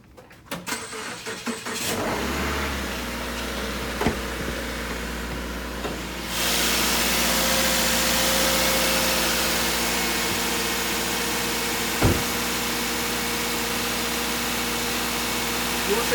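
A 2015 Subaru Legacy engine cranks and catches after a couple of seconds, then settles into a steady idle, which rises slightly and holds, with occasional small clicks.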